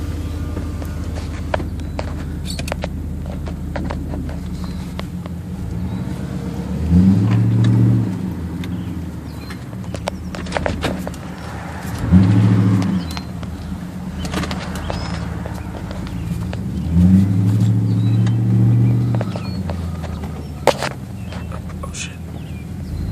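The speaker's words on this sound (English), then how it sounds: "You hear the whine on the turbo." A turbocharged 2009 Jeep SRT8 drives along, its engine over a steady low drone rising in three separate surges as it accelerates. A thin turbo whine rides on each surge, with some faint background sounds.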